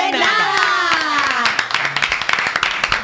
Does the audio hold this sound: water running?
no